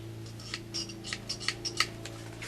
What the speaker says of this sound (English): got my tin snips here.